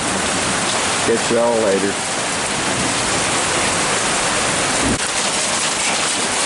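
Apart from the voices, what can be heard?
hail falling during a hailstorm in Eastern Kentucky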